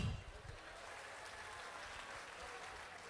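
An audience applauds a performance at a university cultural festival, a steady, fairly faint wash of clapping that starts with a brief low thump and holds evenly throughout.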